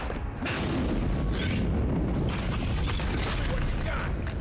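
Grenade blast against cave coral in the video game Avowed, a heavy booming burst with rumbling debris that sustains loudly for several seconds after a brief quiet start.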